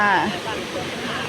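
Phlio waterfall in Chanthaburi, Thailand, rushes as a steady hiss heard from a high viewpoint. A voice briefly overlaps at the start.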